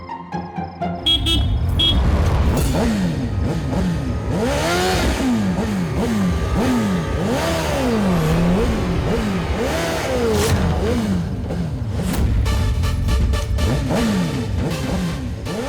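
A motorcycle engine revs repeatedly, its pitch climbing and falling in rapid swoops, with other traffic noise and a brief horn toot around it, loud and close throughout.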